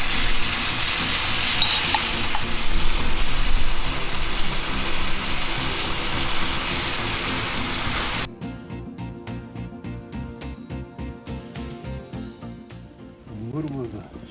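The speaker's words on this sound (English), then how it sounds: "Steaks have been on for 2 minutes. Let's flip them over. Get them to sear on both sides." Steaks sizzle and sear on a campsite grill during winter camping in Florida, a steady loud hiss for several seconds that drops to quieter crackling pops, with people talking over it near the end.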